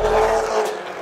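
The engine of a heavily turbocharged car with an upgraded clutch and a forged gearbox roars loud and close, holding a rough, deep growl before quickly dropping away.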